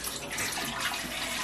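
Water pouring steadily into a bread machine pan in a home kitchen, a continuous close splashing stream with no talk.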